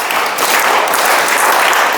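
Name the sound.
loud applause from children and audience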